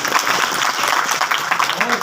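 Audience at a Hindi poetry gathering in Tigaria clapping to welcome the chief guest, a continuous crowd patter of many hands held at even loudness, with a voice speaking over it.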